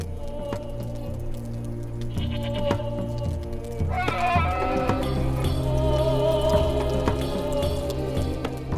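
Two goats bleat repeatedly beside a man, wavering cries rising over a low rumbling background, close and steady before a livelier, denser stretch of sound.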